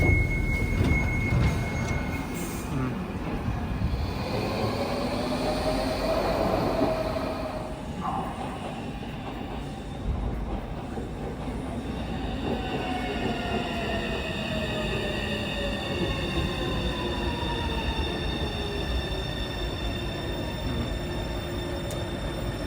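A DLR light rail train of older stock rumbles along with steady rolling noise, wheel squeals and tonal motor whine rising and falling, heard from inside the carriage.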